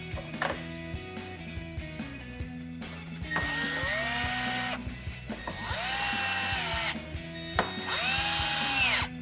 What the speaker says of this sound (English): grab your T15 torque bit, 3 screws back in here